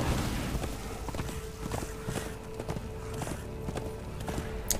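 Horse hooves in the video game Darksiders II, a steady rhythmic clip-clop of a ridden horse moving across open steppe, evenly paced under a constant low background, with no voices.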